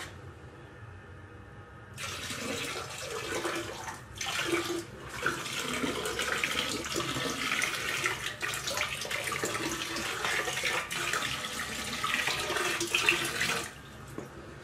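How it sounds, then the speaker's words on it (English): Colloidal silver water poured from a gallon jug into a container, a steady continuous gush of liquid lasting over ten seconds with a brief dip midway, close and fairly quiet, without speech. "Just gonna pour some silver in here."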